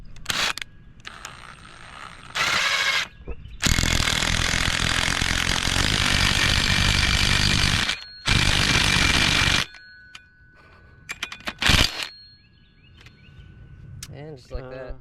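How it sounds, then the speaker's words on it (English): An impact wrench hammers a bolt tight on a lowered Subaru BRZ, loud sustained rattling bursts of a few seconds each with gaps between, followed by shorter blips and clanks. "Make sure you always hand thread that a little bit first before hammering it with an impact."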